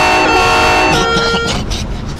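A loud, sustained car horn blasts up close, holding a steady tone for about a second and a half before cutting off, followed by a short burst of noise.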